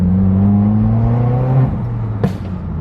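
A Subaru WRX with an inexpensive aftermarket exhaust hums at steady revs, then drops off and lets out a single sharp pop near the end, close and loud.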